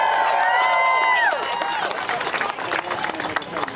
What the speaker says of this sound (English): Give you all a hand right now.